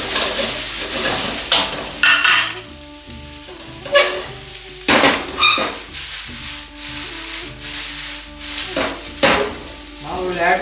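Veg Hakka noodles are tossed and stirred in a wok, giving repeated scraping, sizzling strokes in an uneven rhythm, with soft background music running underneath.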